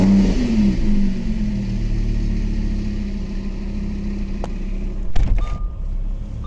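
A 2017 Lamborghini Huracan Spyder's engine runs loud and close with a steady low drone that swells in a rev and then settles, ending with a few sharp clicks and a brief tone; no one speaks.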